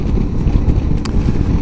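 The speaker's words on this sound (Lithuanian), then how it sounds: "Nes čia tai daužo, tas vėjas daužo." Strong wind buffets a vehicle driving through Iceland, a steady loud low roar with gusty thumps throughout and a brief sharp knock near the end.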